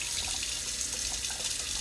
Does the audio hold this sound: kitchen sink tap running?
yes